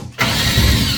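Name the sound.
power drill unscrewing a screw on a shower pump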